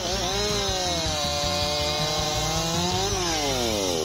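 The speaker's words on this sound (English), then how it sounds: "The versatility and ease of use of the Makita EA7900 handheld chainsaw makes wood cutting easier than ever." A Makita EA7900 handheld chainsaw cuts through wood, its motor whining loud and steady throughout with a rising pitch near the end, alone without voices.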